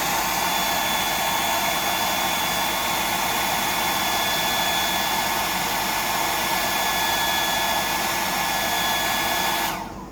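A hair dryer blows steadily for about ten seconds, drying a 175mm glide mullet fishing lure, a loud continuous whoosh with a faint whine that cuts off abruptly at the end.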